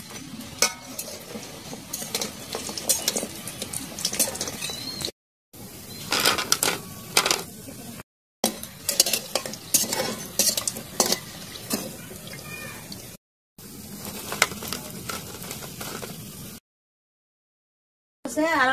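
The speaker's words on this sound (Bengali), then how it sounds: "গা মুসমুসা করে ভাজছে, আর আমি নামাই ফেলাম।" Khaja snacks fry in oil and are stirred and lifted out, with bursts of clinking scrapes and crackling sizzle separated by short silent cuts.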